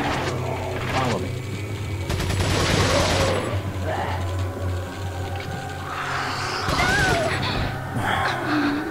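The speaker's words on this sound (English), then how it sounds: "give me that machine gun" Machine gun fire in Resident Evil 4 on professional difficulty, loud bursts of rapid fusillade that come in waves, mixed with game effects and a voice talking over the shooting.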